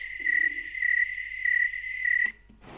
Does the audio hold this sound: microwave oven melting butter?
no